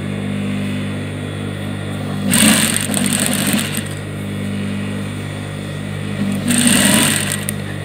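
Sewing machine stitching a djellaba, running loudly in two short bursts with a steady hum between them; no voices.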